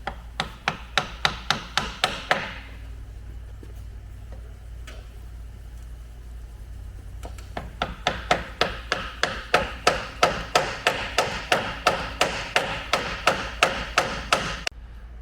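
Steel bushings of 4000-series steel are hammered into a Timbersled kit: a quick run of sharp metallic strikes, a pause, then a longer run of steady, evenly paced blows over a low constant hum.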